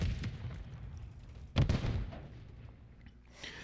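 A few sharp pistol shots from a Renetti in a first-person shooter, the loudest burst around the middle, set against ambient game noise.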